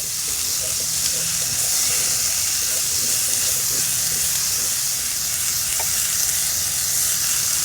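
Sliced red peppers and onions sizzle and hiss in a hot pan, a steady, loud frying crackle that holds without a break.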